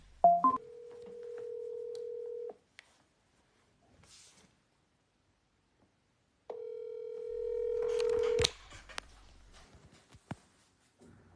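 A WhatsApp video call rings out on a phone after a short beep: two long, steady electronic tones about two seconds each, separated by several seconds of near silence, fairly quiet and close.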